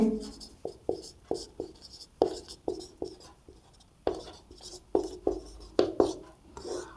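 A pen writes out maths steps by hand, its quick rhythmic strokes scratching across paper close up in a steady run of short bursts with brief pauses.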